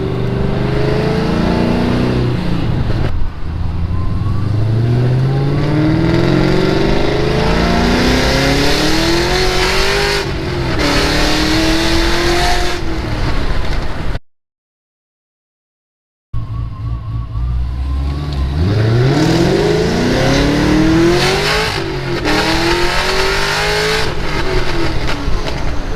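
A Pontiac GTO fitted with a ported 90mm throttle body revs and pulls hard, engine roar climbing and falling in repeated sweeps with a faint whine, broken by a brief silent gap.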